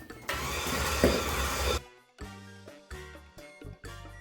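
An electric mixer on low speed beats peanut brittle cookie dough, a loud whirring burst followed by several short, stuttering pulses of the motor.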